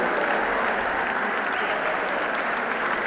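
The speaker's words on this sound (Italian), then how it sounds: "Un applauso al grande piccolo Marco." Dense, sustained applause from a crowd at a cycling memorial prize-giving ceremony fills the whole stretch at an even, fairly loud level.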